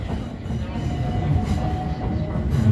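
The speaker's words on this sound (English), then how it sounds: "These trains make so much noise on these tracks." Southeastern Class 376 electric train running on the tracks, a steady loud rumble and roar with a faint thin whine sustained throughout, no voices over it.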